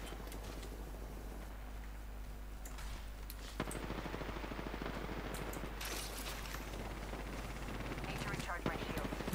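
Video game gunfire from a Revenant match, faint rapid bursts of shots sitting low under a constant hum, with no clear voice.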